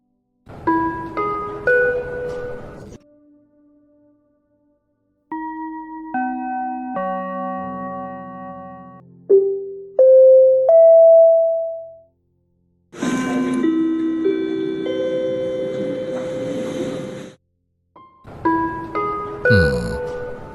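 Airport terminal chime presets auditioned one after another in a Microsoft Flight Simulator cabin addon: several distinct multi-tone bell and ding-dong sequences, some bright and melodic, separated by short silences, loud and clear with no talking.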